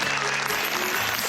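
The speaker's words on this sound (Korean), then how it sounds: "위로의 박수 부탁드립니다." A studio audience at a Korean high school quiz show claps in consolation for an eliminated team, a brief, dense burst of applause at steady loudness.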